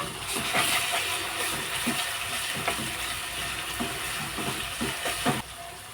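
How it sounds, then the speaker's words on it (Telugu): Onions fry in a pan for a spicy fish biryani curry. The sizzle is close and continuous, with scattered crackles and stirring scrapes throughout. The sound drops away abruptly near the end, and no one speaks. "ఉల్లిపాయలు బాగా వేగినాయండి"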